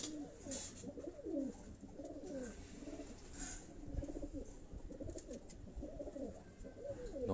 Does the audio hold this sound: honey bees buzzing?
no